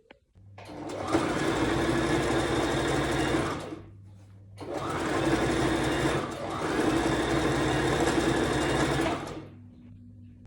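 An electric sewing machine stitching a Margamkali dress runs in two long loud bursts with a short pause between, a steady close whirring drone with no talk.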